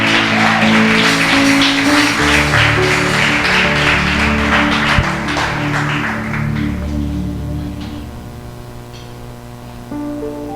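A congregation applauds during a Spanish-language church service, steady dense clapping throughout with sustained music underneath, fading slightly toward the end.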